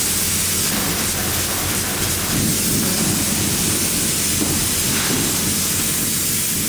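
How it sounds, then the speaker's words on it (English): Spray foam insulation blasting continuously from a spray gun into a wall cavity, a loud, dense, unbroken hiss with no pauses. "So after this foam is sprayed in place"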